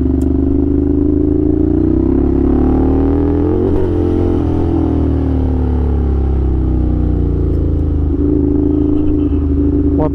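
A Ducati Scrambler 800 motorcycle rides along forest roads, its engine a loud, close, steady rumble with shifting revs and wind buffeting throughout, no talk over it.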